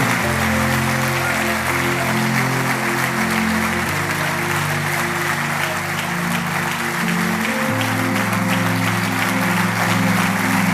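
A church congregation claps during a sermon, with sustained applause spread across the room over steady sustained organ or keyboard chords that shift pitch partway through.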